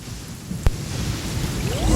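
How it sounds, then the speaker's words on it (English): A lightning storm with steady rain in a video game, a sharp close thunder crack standing out over the continuous downpour, with the rumble and rain building toward the end. "can we look for it somewhere where it's not raining and there's no lightning?"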